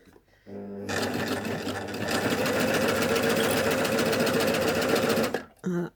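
A Baby Lock Ovation sewing machine stitches decorative threads in one loud, close, rapid mechanical run lasting about five seconds, with a moment of quiet before and a brief bump after.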